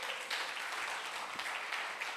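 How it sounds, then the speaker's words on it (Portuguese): A standing church congregation at a Sunday morning celebration service applauds for Jesus, with steady, fairly distant crowd clapping filling the room. "Oferte uma salva de palmas para Jesus"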